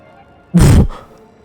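A dragon in The Legend of Zelda: Twilight Princess lets out a single short, loud growling roar of about a third of a second, followed by a fainter echoing tail over quiet game background.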